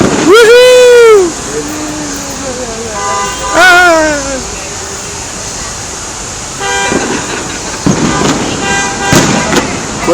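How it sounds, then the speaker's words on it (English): Car horns honking in stalled traffic on a 4th of July evening in downtown Indianapolis: a long loud blare, then another horn, followed by scattered sharp bangs and crowd noise, with people talking and cheering. "Quit honking your horn, nobody's going anywhere."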